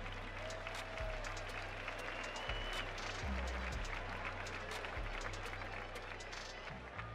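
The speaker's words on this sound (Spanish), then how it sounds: "Un aplauso para Menac y para Sweet Pain" Faint audience applause at a rap battle event, a wash of claps heard at a distance under low, steady bass-heavy music that pulses throughout.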